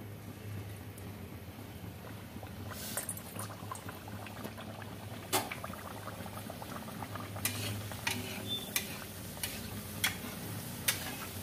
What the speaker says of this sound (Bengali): আচ্ছা, এবার পুরিগুলো ভাজা হবে।